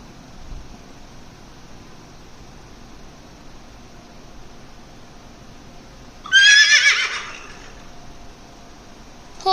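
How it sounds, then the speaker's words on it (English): A horse gives a single loud, shrill neigh about two thirds of the way through, ringing out alone over a faint steady hiss. "Horse."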